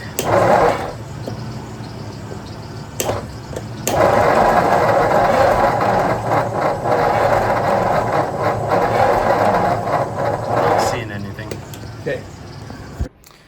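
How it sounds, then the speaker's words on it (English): A 1963 Ford Y-Block V8 cranks without firing. The starter whirs steadily and loudly for several seconds in a couple of bursts, with brief gaps between them and voices nearby. "we weren't able to get it to actually start and fire"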